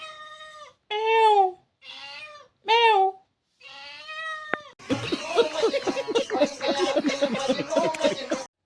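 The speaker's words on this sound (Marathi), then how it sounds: "कसा मांजर आढळतो बघा" A cat meows several times in short, drawn-out cries with pauses between them, then a dense, busier sound takes over.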